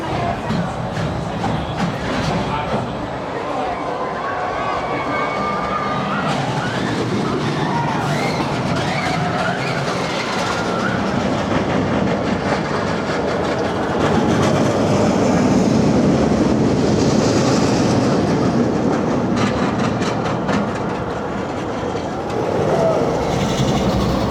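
A roller coaster train at Six Flags Over Georgia rumbles and rattles steadily along its track, a loud continuous roar with clattering wheels and some wind noise, swelling slightly midway.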